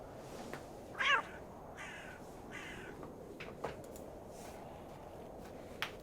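A cat yowls once, a short rising-and-falling meow, in the video game The Excavation of Hob's Barrow, followed by a few faint soft sounds over quiet ambient background, with no speech.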